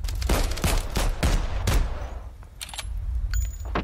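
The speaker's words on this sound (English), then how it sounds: "The Bren section keep pushing forward, firing at Lieutenant Baumann and Borri" Bren light machine gun fire as a battle sound effect, several sharp, loud bursts in quick succession, then a quieter stretch with scattered distant clicks and a faint ringing tone, no voices.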